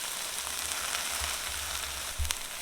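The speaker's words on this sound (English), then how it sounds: "I'll cook it low and slow from this point on to allow the liquid from the okra to evaporate to prevent any sliminess." Okra and potatoes fry in a pan over low heat, giving a soft, steady sizzle with faint crackles and one slightly louder burst near the end, no voices.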